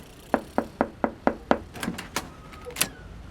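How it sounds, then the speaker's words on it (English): Knocking on a door as a live sound effect in a stage performance: six evenly spaced, crisp knocks, loud and close, followed by a few scattered thuds and higher clicks. "The two heroes heard a knock on the door."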